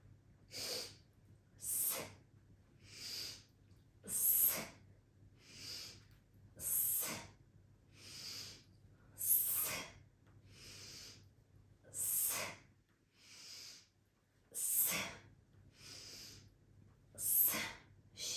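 Rhythmic breathing exercise during morning active yoga, with about a dozen sharp hissing 's' exhales repeating steadily roughly every 1.3 seconds, each followed by a softer inhale, close and clear with no talking.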